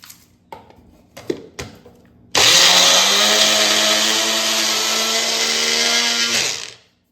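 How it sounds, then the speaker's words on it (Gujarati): A mixer grinder grinds batter ingredients with a loud, steady motorized whir lasting about four seconds, then winds down. It follows a few soft clinks and knocks as the jar is set in place. "હા, હવે આપણે પીસી લઈશું."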